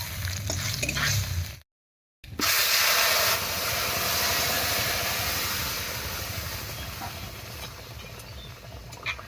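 Black gram (mas kolai) dal poured into a hot pan of tempering with crushed ginger and turmeric, erupting into a loud, steady hiss and sizzle after a brief cut of silence, continuing strongly to the end.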